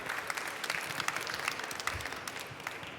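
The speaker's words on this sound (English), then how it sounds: "Tim Bischoff, big applause for Emsight." Audience applause following a start-up award finalist presentation at a trade fair, steady dense clapping sustained across the whole stretch, fairly close and even in loudness.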